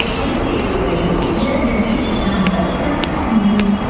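A metro train ride along MG Road, with a loud steady rumble of rolling carriages, faint wheel squeal and occasional clicks from the track, heard close from inside the car without a break.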